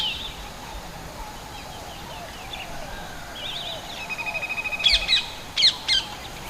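Common Indian crows call in a forest camp in Corbett National Park, faint at first, then a string of short rapid notes and several louder, harsher caws near the end over a quiet background hiss.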